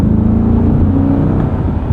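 A 2025 Chevrolet Corvette Stingray C8 3LT engine revs steadily while accelerating, a loud, continuous droning roar heard from inside the car, with no speech.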